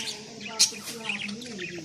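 Pet parrots kept in a home courtyard in a Punjabi village chirp in short, bright bursts over a steady background murmur, with a sharper call near the middle.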